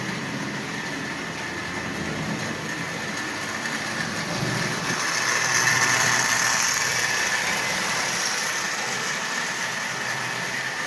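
A Marx Commodore Vanderbilt toy locomotive converted from wind-up to electric runs along its track with a continuous whirring motor hum and a high whine, swelling slightly louder midway as it passes closer.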